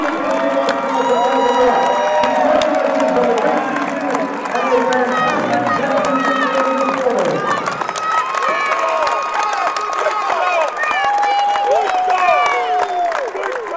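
Crowd at a girls' basketball regional final cheering and shouting for their Pioneers as the runner-up team approaches, sustained near cheers and whoops with a commentator talking over them.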